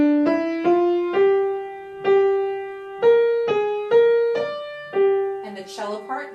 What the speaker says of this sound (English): The violin part sounds like this. It's playing hatikva.